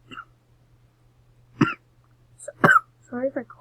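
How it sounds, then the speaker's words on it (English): Two short, sharp coughs from a person close by, about a second apart, followed by brief speech. "Sorry if I cough."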